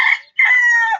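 Chickens give a quick, loud, close alarm call after spotting a bird flying overhead: a short squawk followed by a longer, shrill, wavering cry, with no talking.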